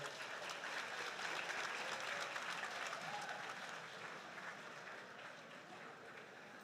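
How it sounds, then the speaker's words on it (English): An audience at a medical graduands' pledge ceremony claps steadily, a dense wash of applause that holds, then eases off slightly toward the end. "while we give them a round of applause"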